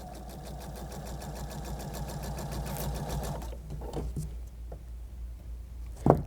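A sewing machine stitches across fabric squares in a fast, even mechanical rhythm for a few seconds, then stops, leaving quiet handling noise and a sharp knock at the end.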